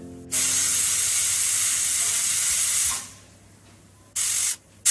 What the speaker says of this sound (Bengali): ছটা সিটি হয়ে গেছে।